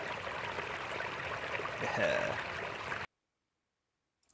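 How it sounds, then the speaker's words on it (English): Rushing fountain water looping as an ambient sound for a Source 2 map, a steady close wash of flowing water that cuts off abruptly into silence, followed by a brief spoken word. "and now our fountain sound for that rushing water."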